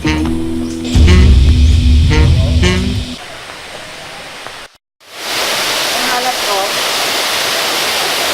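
Zodiac Falls waterfall in Siquijor, a steady loud broadband rush of falling water that fills the scene, with some louder tonal noises early on before the roar continues alone.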